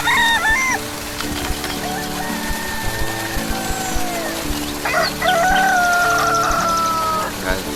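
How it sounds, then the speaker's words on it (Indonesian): Several roosters crow in a morning village in the Soppeng countryside, South Sulawesi, with repeated cock-a-doodle-doo calls rising over rural background noise, some close and loud, others farther off. "Dengan suara kelompok ayam pagi hari"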